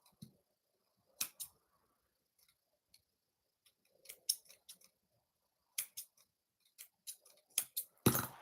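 Scissors cutting yarn during crocheting, a series of sharp, close snips and clicks in irregular bursts separated by near silence, growing denser toward the end.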